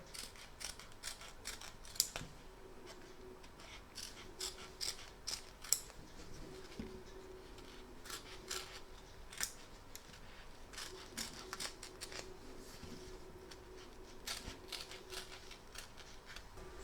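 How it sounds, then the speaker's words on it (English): Scissors snip steadily and close up, trimming fabric applique around a stitch line on a Santa design, with rapid, evenly spaced cuts throughout. "just trim around the edge of the stitch line, taking care not to cut it"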